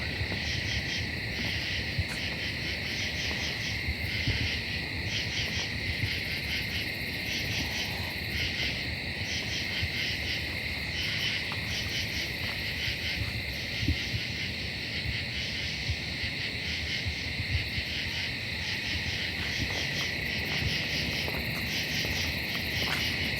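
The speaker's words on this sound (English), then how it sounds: "Amazing hearing this many katydids around." A dense chorus of katydids calls steadily through the night, their buzzing pulses overlapping continuously at an even level.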